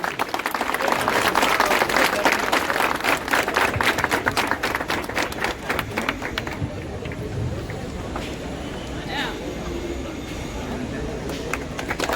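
Applause from a crowd gathered at a Govinda pathak practice session visited by a guest, dense loud clapping for several seconds that thins out into scattered claps with voices in the background.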